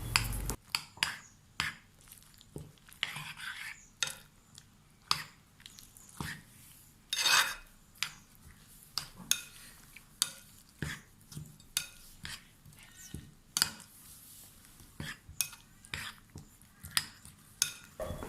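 Eggs being beaten into omelette batter made with dandila (breadfruit-like potato) in a bowl, giving a run of quick scraping, tapping strokes of a utensil against the bowl, close and fairly quiet, with no talk.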